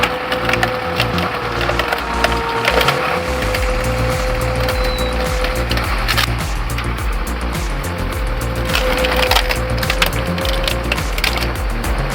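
A 60,000-pound PTO log splitter forces 18-inch oak rounds apart, its engine droning loudly and steadily under repeated cracking and splintering of the wood.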